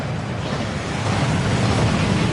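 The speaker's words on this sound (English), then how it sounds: "That waterfall washes away all enchantments." Waterfall roaring in the Gringotts vaults in Hogwarts Legacy, a steady broadband rush of falling water that stays loud and constant, swelling slightly toward the end, with no voices.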